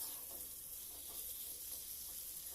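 Salted potatoes fry in hot oil with a steady, soft, hissing sizzle that stays even throughout, close by and unaccompanied by talk.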